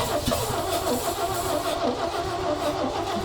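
A 1965 Chevy engine cranks steadily on ether, the starter churning a loud, continuous, rough mechanical whirr close by without catching.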